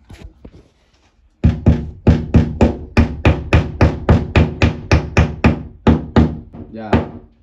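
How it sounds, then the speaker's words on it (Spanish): A quiet scrape, then a long run of rapid, evenly spaced hammer taps driving a wall plug in a bathroom, close and sharp, slowing slightly toward the end. "le da unos golpecitos con el martillo"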